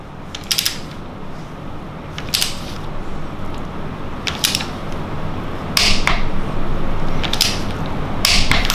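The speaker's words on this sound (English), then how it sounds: "tighten up the bolt for the intake one" Wrench tightening the intake camshaft bolt on a BMW N62 V8 during a timing chain overhaul, giving a run of sharp metallic ratcheting clicks in short repeated bursts close by, with no talk.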